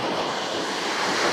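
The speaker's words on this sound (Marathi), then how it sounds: "पण आता लाटा थोडा वाढले त्याचे." Sea waves washing onto a beach at rising tide near Malvan, a continuous close rush of surf with wind noise on the microphone.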